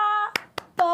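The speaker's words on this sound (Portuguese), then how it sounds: "Palmas!" Three sharp hand claps, evenly spaced and close, set between stretches of sustained tonal sound.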